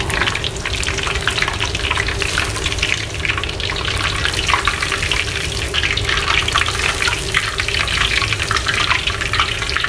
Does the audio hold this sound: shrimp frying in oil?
yes